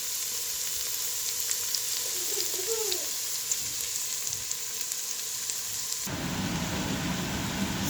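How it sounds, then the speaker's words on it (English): Onions and green chilies sautéing in a pan for egg masala curry, a steady close sizzle throughout with a brief stir partway and a louder hiss near the end. "So right now I got the onions and green chilies in here, and I'm going to be sauteing it"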